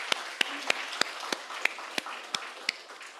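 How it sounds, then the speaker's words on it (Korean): Applause from a congregation during a Korean church worship service, heard as about nine sharp, evenly spaced claps over a quiet background. "우리 한번 박수해 줍시다."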